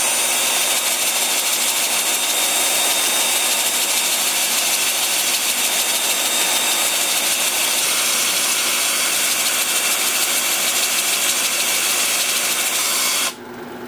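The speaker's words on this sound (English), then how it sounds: "Then with the lathe spinning in reverse at about 380," A wood lathe runs in reverse at about 380 rpm during sanding, giving a steady, loud whirring hiss that holds evenly before cutting off abruptly near the end.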